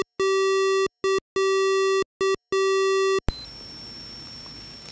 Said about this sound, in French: Voici la même musique avec un rythme différent.